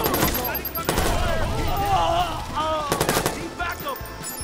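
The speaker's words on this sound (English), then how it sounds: "I'll just pull out my assault rifle." Assault rifle fire from the Watch Dogs video game, loud rapid bursts near the start and again around the three-second mark, with someone talking over and between the shots.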